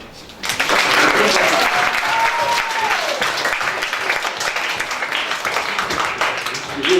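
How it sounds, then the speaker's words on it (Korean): Audience applause in a lecture hall fills the room after a short quiet start, a steady dense clapping that holds for nearly seven seconds at fairly loud level. "박수."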